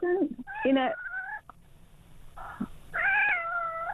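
A cat meows in drawn-out, wavering cries, two or three loud, close calls separated by short pauses, with radio talk between them.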